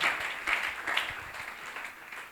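A church congregation applauding during a Sunday service, a dense steady wash of many hands clapping at moderate distance, fairly loud and continuous throughout, with no talking over it.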